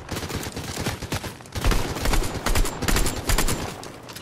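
Rapid automatic gunfire in the video game Fortnite, bursts of close, loud shots that grow heavier midway and keep repeating.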